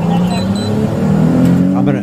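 A police car engine revs hard as it accelerates, a loud rising motor drone with a climbing pitch near the end, partly under a voice.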